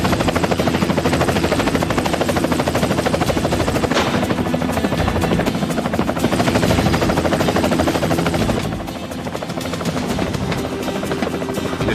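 A helicopter at a rooftop heliport, its rotor beating in a loud continuous rapid chop with a dense turbine roar, close and steady throughout without talk.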